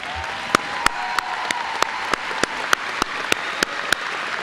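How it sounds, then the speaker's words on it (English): A commencement audience applauds faculty and staff in a large hall, a steady wash of clapping with regular sharp claps standing out, sustained and moderately loud throughout. "please give them a round of applause"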